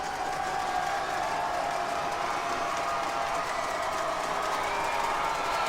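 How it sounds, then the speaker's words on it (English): A high school football crowd at the Hahnville versus Destrehan game roars steadily in a continuous, distant wash of cheering that never breaks. "And the crowd's going wild"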